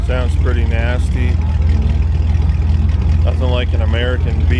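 An American V8 car idles at an outdoor car meet, a deep, steady low rumble that runs continuously beneath nearby conversation.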